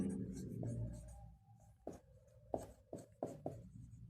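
Chalk or marker strokes on a classroom board during a Hindi-language geometry lesson on triangles: a run of short, sharp taps and scratches in uneven rhythm, close by, with a faint voice murmuring early on.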